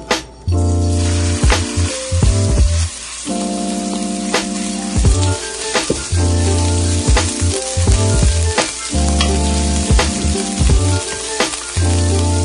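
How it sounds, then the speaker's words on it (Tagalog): Ground meat sautéing in oil in a wok, a loud continuous sizzle broken by repeated scraping and clanking of a spatula against the pan, with a steady low hum underneath. "Igisa po natin yung giniling"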